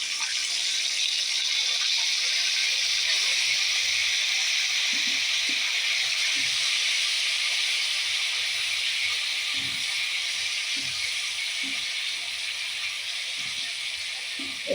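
Spice paste for vada pav fries in hot oil with a steady, even sizzling hiss, close and constant, broken by faint scattered pops and light clatter.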